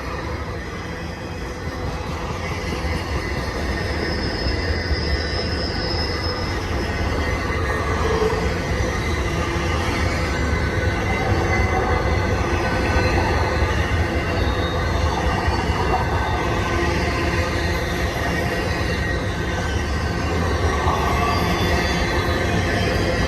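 A freight train rolls downhill steadily along the rails, a continuous loud roll with faint metallic squeals, no voices, sustained throughout.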